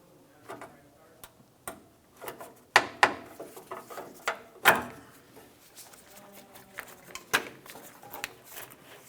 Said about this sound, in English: To access the passenger side bolt, we'll be using our trim tool. Come up along this area and remove this.